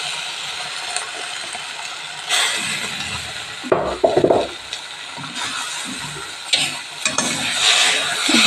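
Paneer masala gravy being stirred in a hot pan, with scraping spoon strokes and a soft sizzle coming in uneven bursts, close and fairly loud with no talking.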